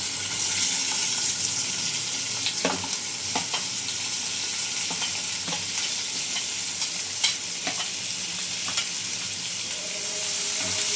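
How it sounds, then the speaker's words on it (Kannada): Onions and green chillies fry in hot oil with a steady sizzle, and a spoon scrapes and stirs the pan in several sharp, irregular knocks. "ಈರುಳ್ಳಿ ಎಲ್ಲ ಚೆನ್ನಾಗಿ ಫ್ರೈ ಆಗಬೇಕು."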